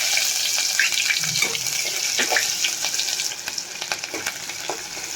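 Ginger and green chilies fry in hot oil at the start of a peanut and potato khichdi. A loud, steady crackling sizzle with scattered spatters runs throughout, slightly easing toward the end, with no speech.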